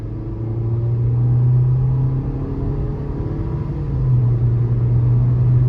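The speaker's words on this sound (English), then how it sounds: "I'm gonna see how it accelerates here." A 2023 Nissan Versa SR with a 1.6-liter naturally aspirated engine and CVT accelerates in sport mode, heard from inside as a steady low engine drone and road rumble that swells slightly toward the end.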